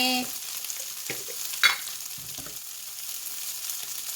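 Potatoes and onion stir-fry in a pan, a soft sizzle broken by a few scraping, clattering strokes of the spatula.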